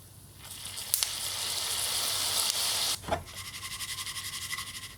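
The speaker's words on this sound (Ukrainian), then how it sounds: "Тут і льон, і кунжут, і соняшникові та гарбузові насіння. Обсмажую і поливаю трохи медом." A flax, sesame, sunflower and pumpkin seed mix roasts in a pan with a soft, close hiss and sizzle, then turns to a quieter, rhythmic crackle as it is stirred.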